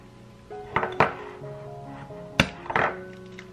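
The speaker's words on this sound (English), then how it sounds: "you want to just break one egg at a time." Eggs cracked one at a time against a bowl or pan while making a gluten-free paleo egg bake, giving sharp thunks and clinks: a pair near 0.8 and 1.0 s, another near 2.4 s, then a cluster just before 3 s, close and clear with a faint hum beneath.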